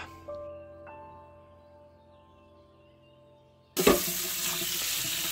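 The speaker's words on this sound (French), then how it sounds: "on commence par venir mettre de l'eau tiède" Sink tap turned on partway through, running lukewarm water in a steady loud gush to thaw a thin frozen plate, after a quiet stretch with faint kitchen hum.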